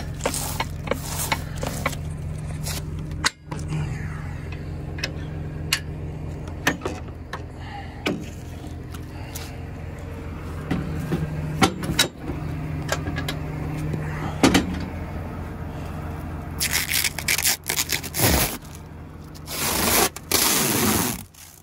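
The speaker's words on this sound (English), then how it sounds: "Sound of the plastic, sound of the wrap going around" A bale wrapper stretches plastic film around a bale in a steady mechanical whir with a continuous hum, broken by occasional clunks and scraping rustles of the wrap over about twenty seconds.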